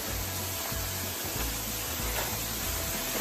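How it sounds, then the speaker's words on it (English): A small snowmelt waterfall on a muddy winter trail at Lake Vesuvius pours in a continuous rushing hiss, steady and fairly close, with no voices. "waterfall."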